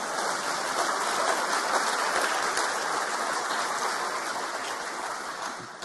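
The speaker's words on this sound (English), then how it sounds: "I think that deserves some applause." A large audience at a ceremony honouring WWII veteran and Medal of Honor recipient Hershel Williams applauds, a steady, diffuse wash of clapping heard from a distance, even and unbroken throughout.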